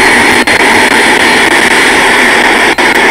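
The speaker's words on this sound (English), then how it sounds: "I'm just gonna let the plane land." A Flywings F-117 Nighthawk RC jet comes in to land, its ducted-fan engine giving a loud, constant high-pitched whine with two brief dips.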